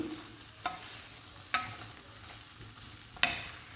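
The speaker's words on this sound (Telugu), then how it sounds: "నేను కొంచెం లైట్గా వేయిస్తున్నాను గోంగూరని పచ్చిమిర్చిని" Gongura leaves and green chillies fry quietly in a pan under a soft steady hiss, broken by three sharp spatula scrapes spaced about a second apart.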